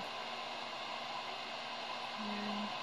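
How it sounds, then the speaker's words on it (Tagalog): A handheld blower, likely a heat gun, runs steadily while a DTF print is peeled off a t-shirt, giving a continuous airy hiss with a low hum that strengthens toward the end. "kami magtanggal ng paint ng DTF ng malingning gamit ang blower"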